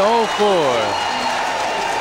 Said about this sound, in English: the fans cheering him on